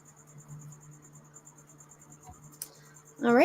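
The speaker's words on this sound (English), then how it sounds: "This cricket is the bane of my existence." Indoors in an artist's studio, a cricket chirps in a steady, rapid pulsing trill. A low hum sits beneath it, with a brief knock near the end and a louder, closer sound cutting in at the very close.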